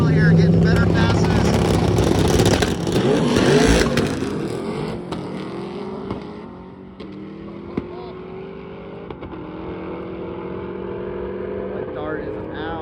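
Stick-shift drag race cars launch down the track with a loud, close engine roar that eases into rising, shifting whines as they pull away, with a commentator talking over the noise.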